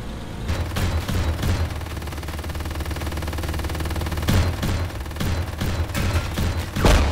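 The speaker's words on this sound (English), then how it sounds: "They're just firing explosive rounds." Explosive rounds fired in the Silica sci-fi shooter, a barrage of loud, sharp booming blasts in irregular bursts over a rumbling battlefield background, with no talk.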